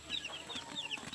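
A black hen clucks softly among her white chicks at feeding time on a farm, the short calls and faint peeps repeating close by in a quick, uneven rhythm with no talk over them.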